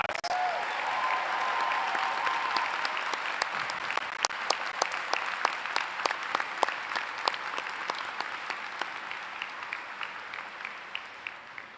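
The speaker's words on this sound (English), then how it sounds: "Please give Usher another big round of applause" A large crowd at an Emory University commencement applauds Usher, a broad wash of clapping that thins over time into sharper, more distinct individual claps with a slow rhythmic pulse.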